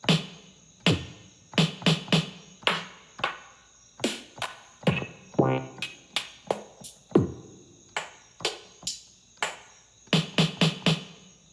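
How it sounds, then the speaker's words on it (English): A repeating electronic beat of crisp, punchy hits with a snare-like crack landing in a steady pattern, played alone without voices. "Now, let's add a snare to this."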